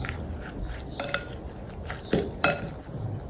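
Eggs stirred in a bowl for a sardine-and-mushroom stuffing for steamed tofu: scattered light clinks of a utensil against the bowl, with a couple of sharper taps near the end, over a soft room hiss and no talk.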